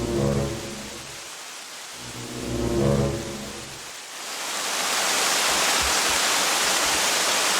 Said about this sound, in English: It had been raining all night, and by the time morning came, it was still pouring down.